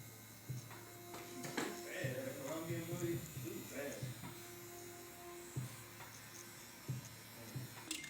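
Electric hair clippers buzzing steadily in a barbershop while cutting hair with the lever closed, a continuous close hum with small shifts in pitch as the blade moves, and a voice talking faintly over it.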